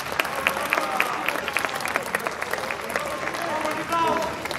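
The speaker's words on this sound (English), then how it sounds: "A huge round of applause for our very own Bhatti Saab for covering today's event." Audience applause at a school English play event in 2022, a dense, steady wash of many hands clapping at close range throughout, with voices mixed in underneath.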